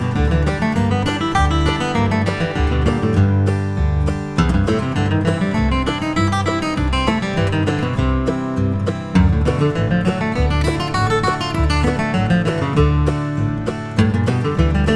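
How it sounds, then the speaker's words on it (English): Bluegrass guitar scale runs are picked over a Strum Machine backing track at about 100 beats per minute, steady rhythmic strummed chords and bass notes under quick melodic lines, loud and continuous with no talking. "I want to play that along with a Strum Machine backing track here."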